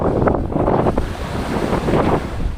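Surf rolling onto the beach at San Antonio, Zambales on a rough, choppy day, a steady loud wash of breaking waves mixed with wind buffeting the microphone throughout.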